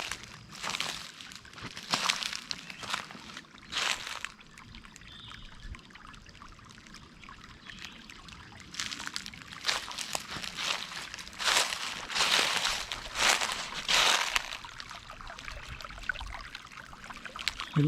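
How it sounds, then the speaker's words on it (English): Spring water trickles and flows on a farm in a soft, continuous stream, broken by repeated brief louder splashy bursts, with no voices. "You can tell it's a lot quieter up here because there's not as much flow"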